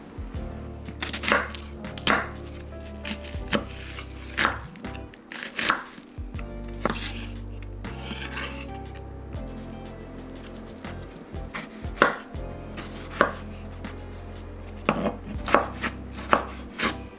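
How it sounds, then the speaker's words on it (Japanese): Red onion, tomato and coriander being finely chopped with a knife on a board, sharp rhythmic blade taps in quick bursts with short pauses, close and clear, no talking. "これらみじん切りにして合わせていきます。"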